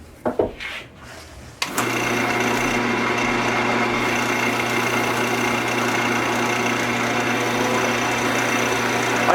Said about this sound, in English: let the grit do the work with the lathe spinning as high as you are comfortably with